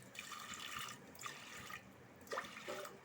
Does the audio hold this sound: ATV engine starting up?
no